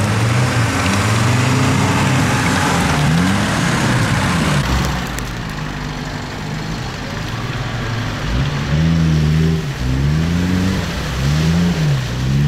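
Off-road SUV engine revving hard in mud, loud and close, with rising and falling rev sweeps, a quieter lull midway, then repeated surging revs, no talk.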